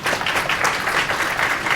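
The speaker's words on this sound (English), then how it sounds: "A round of applause for that." Audience at a panel discussion on women in planning breaks into brief, close applause, a dense burst of clapping lasting under two seconds.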